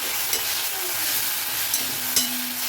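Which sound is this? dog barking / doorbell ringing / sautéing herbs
sautéing herbs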